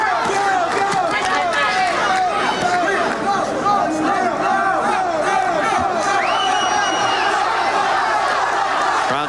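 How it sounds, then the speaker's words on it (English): A boxing arena crowd screams and yells through a tense tenth round, a dense, loud roar of many voices with rising shouts. An announcer talks over the din throughout. "Crowd screaming, go, go."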